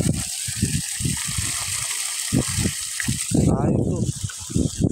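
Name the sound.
irrigation water flowing into rice field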